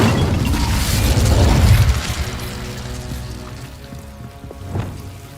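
An Incendio fire spell is cast in Hogwarts Legacy, a loud whooshing, crackling burst of flame with a deep rumble that swells, then fades into a softer hiss with a brief late flare.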